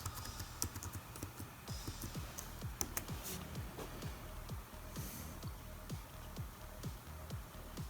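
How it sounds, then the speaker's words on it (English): Rapid, crisp key clicks as a password is typed on a MacBook keyboard, close and fairly quiet, in uneven bursts with no talk. "So I just gonna type my password."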